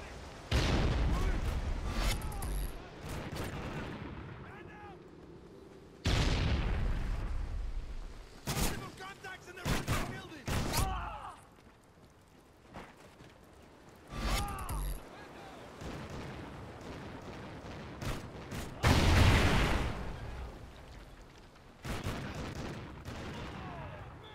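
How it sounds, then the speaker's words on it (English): Shotgun shots in Call of Duty: Ghosts multiplayer crack out as sharp, loud blasts at irregular intervals among other gunfire and game noise, with a player talking between them. "I hear at least some shotgun shots over here."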